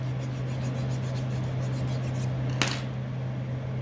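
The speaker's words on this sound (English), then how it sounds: "you want to take a needle file You want to get all of those little burrs from sanding" A needle file rasps across the edges of a metal bezel to clear burrs, a series of short rhythmic scraping strokes up close, followed by a single sharper metallic scrape near the end.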